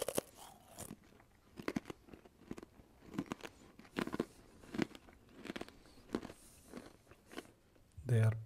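A spiced traditional homemade snack being bitten and chewed, giving repeated crisp, close crunches in an irregular rhythm over about eight seconds, with a louder thump at the very end.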